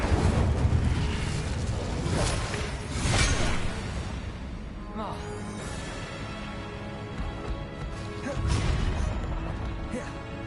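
Fiery Incendio spell blasts from the Hogwarts Legacy video game, with loud whooshing bursts around the start and again near the end over a steady busy game soundscape.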